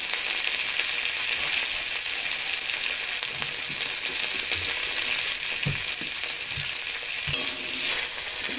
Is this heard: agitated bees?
no